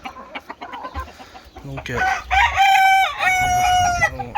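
White Leghorn hens cluck in short broken calls at a backyard breeding pen before a rooster lets out a loud, close crow lasting about two seconds; someone speaks French briefly at the start.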